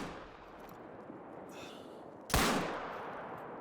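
A single sharp handgun shot from a .45 Rolleston in theHunter: Call of the Wild cracks loudly over steady outdoor ambience, with its report decaying into a lingering tail.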